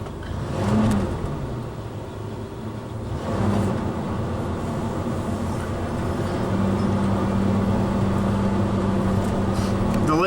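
A train rumbles past nearby in the desert near Dateland, Arizona, with a steady engine drone and low tonal hum, building slightly louder toward the end.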